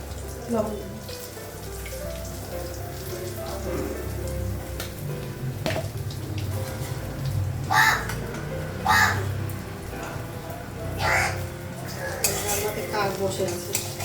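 A crow caws repeatedly nearby while eggplant fries in a kitchen, its harsh calls recurring every second or so over steady sizzling and occasional utensil clatter, with some talk in the background.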